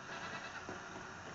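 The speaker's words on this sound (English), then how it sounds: "Whoa, zombie goats" Zombie goats bleat in the Red Dead Redemption: Undead Nightmare video game, a short, nasal bleat rising over steady game background noise, moderately faint and without talk.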